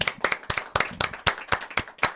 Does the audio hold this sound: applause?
yes